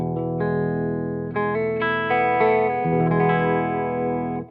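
Electric guitar run through a Fender Hammertone Flanger pedal with depth at minimum, producing a subtle warble on sustained, distorted chords; several strums ring out loud and steady with no talking.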